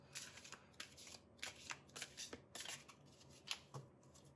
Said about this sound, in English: Let me shuffle the cards first.